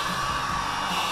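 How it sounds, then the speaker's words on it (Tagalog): A hair dryer blows hot air in a steady, close whine and whoosh while a push lock is fitted on a Honda ADV160 scooter, with no voices. "So, meron ditong dryer. Hair blower."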